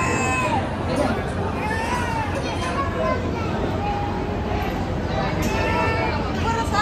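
Large crowd outside the Tuljapur goddess temple, a dense continuous hubbub of many mixed voices nearby, with someone talking close over the steady babble.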